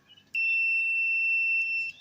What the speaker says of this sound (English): So it's supposed to produce a beep sound.